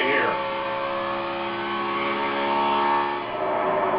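NASCAR stock cars roar around the track at the start of the 2014 Coca-Cola 600, including Chevrolets and Fords, a loud sustained engine drone with shifting pitches as the pack passes, under a commentator's talk.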